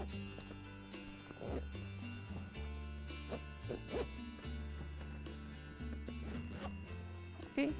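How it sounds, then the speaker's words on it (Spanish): A zipper is drawn shut on a handmade Christmas cushion cover, with short scratchy rasps that are partly buried under steady background music. "Cerramos nuestra cremallera."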